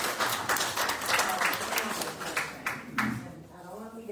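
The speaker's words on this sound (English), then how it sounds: "let's give her a round of applause" Audience applause at a city commission meeting in Mulberry, Florida: a few seconds of steady clapping from a modest crowd, tapering off as a voice begins speaking.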